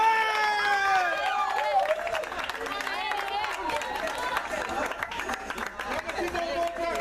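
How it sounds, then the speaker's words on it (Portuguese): A small crowd at an outdoor birthday celebration in São Paulo's Jardim São Carlos claps and cheers for the guest of honor, lively scattered applause mixed with shouts and chatter, with voices talking throughout. "E aplausos para a nossa homenageada do dia"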